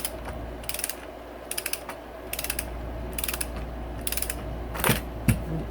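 A wrench ratchets a reverse-thread crankshaft nut on a KTM 85SX-type two-stroke engine with the gears wedged by aluminum, giving short bursts of rapid metallic clicks in repeated strokes, close, followed by a couple of louder clunks.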